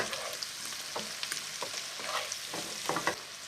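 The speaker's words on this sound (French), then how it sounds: "Et on va remuer" Shallots seasoned with salt and Espelette pepper sizzle quietly in a pan while being stirred, with soft scraping strokes and bursts of frying crackle recurring irregularly over a low hiss.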